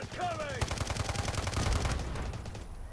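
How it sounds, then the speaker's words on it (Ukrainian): A rapid burst of grenade launcher fire in the mobile shooter game Delta Force, three sharp blasts in quick succession over a rumbling background, fairly quiet overall. "Це, коротше, три гранатки стріляє."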